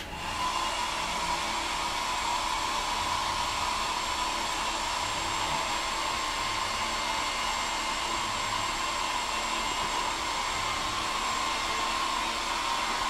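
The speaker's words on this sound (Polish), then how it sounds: "Aby wzmocnić siłę wiatru, użyjemy również suszarki." A hair dryer blows air at a homemade wind meter, a steady, unbroken, whining motor hiss that holds at the same level for about thirteen seconds with no voices.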